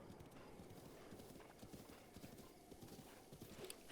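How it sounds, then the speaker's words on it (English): A horse walks at a steady pace in the video game Breath of the Wild, its hooves making a continuous, faint clip-clop at very low volume. "royal steed, Bongus, waits patiently for me"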